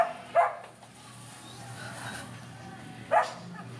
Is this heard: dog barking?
yes